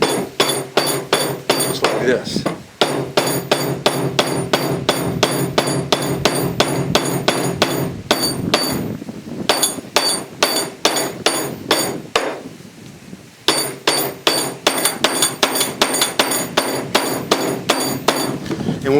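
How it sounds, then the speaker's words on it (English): Hammering a wooden tine into a tine jig: rapid, steady metallic hammer blows in a continuous rhythm, close and loud, broken by a few short pauses, with a brief spoken remark. "hammer it in."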